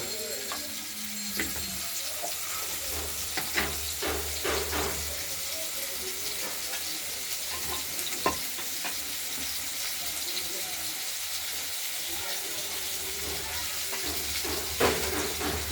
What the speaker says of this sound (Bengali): আলুগুলো ভেজে নেব। পরিমাণ মতো লবণ দিয়ে দিলাম।